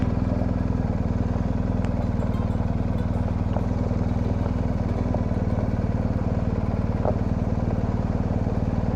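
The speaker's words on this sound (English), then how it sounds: "I am so glad this bike has a fairly quiet exhaust." A motorcycle with a fairly quiet exhaust rides along a gravel road in Tennessee, its engine putting out a steady, even thrum for the whole stretch, close and moderately loud with no talking.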